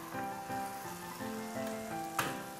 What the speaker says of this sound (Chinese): 这时候鸡蛋豆腐就可以下锅咯